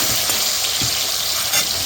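Rohu fish patturi ingredients with salt and whole garlic cloves fry in a pan while being stirred, giving a steady, close, bright sizzle with a faint spatula scrape partway through; no one speaks.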